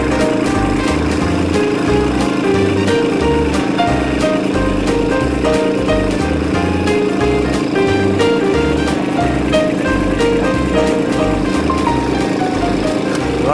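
A Kubota LX2610 compact tractor engine idles steadily and loudly with a rhythmic, chugging pulse throughout, close by, with no speech.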